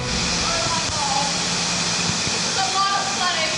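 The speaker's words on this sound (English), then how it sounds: "All you can hear is the water gushing" Water gushes through a crack with a loud, constant broadband rush and hiss that fills the whole stretch, with speech faintly present beneath it.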